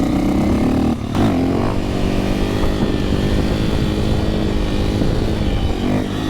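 A supermoto motorcycle on a group rideout: a loud, continuous engine drone close to the mic, with a brief dip and then a steady run under wind rush.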